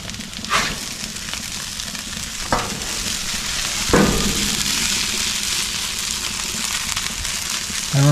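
Hash browns frying on a Blackstone griddle, a steady loud hiss of sizzling oil with a few scraping clanks of a wide metal scoop over the top.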